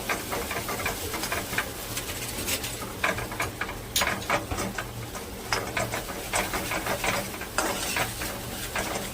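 Masala sizzles in hot oil as it is sautéed, a continuous bright crackle with intermittent stirring scrapes and clinks of a spoon against the pan, close and steady throughout.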